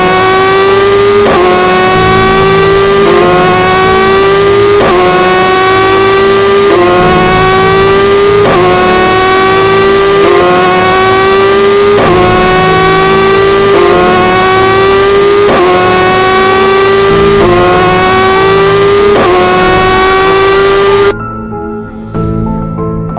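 A motorbike sound effect from an animated horror cartoon: the engine revs loudly over and over in steady rising cycles for about twenty seconds, then cuts off abruptly, with no voices.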